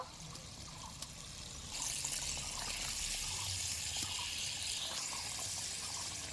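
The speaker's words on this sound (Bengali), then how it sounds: "মশলা কষার মধ্যে একটু জল দিয়ে দেব" Water poured into spices frying with asafoetida in a pan for a Bengali vegetarian egg curry, a steady hissing splash and sizzle rising suddenly partway through and holding until the end, close and moderately loud.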